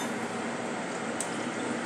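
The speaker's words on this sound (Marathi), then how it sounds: "अर्धा कप पाणी घालत आहे" Water poured into a pan of milk on a gas stove, a steady close liquid wash with no pauses across the whole stretch, alone without talk.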